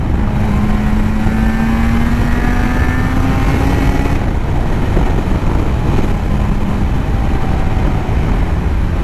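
A Suzuki RG500 two-stroke motorcycle with Nikon exhausts rides along a road, its engine loud and close with a rising, buzzy exhaust note, a shift partway through and steady wind rush under it.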